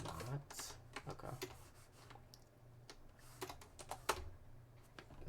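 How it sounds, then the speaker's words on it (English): Someone types an Arch Linux terminal command on a computer keyboard in quick, irregular bursts of close, crisp key clicks, with a person speaking quietly at times. "so I was typing it in wrong"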